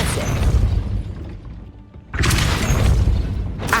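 Depulso spell effects in Hogwarts Legacy land as loud booming, shattering blasts, one heavy burst fading into a brief lull before another crashing impact surges back.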